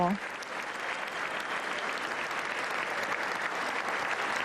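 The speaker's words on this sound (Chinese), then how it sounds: "那现场呢现在是响起了很大的掌声。" Loud, sustained applause from a large audience fills the chamber as President Biden takes the podium for his first State of the Union address, a dense steady roar of clapping with a brief voice at the very start.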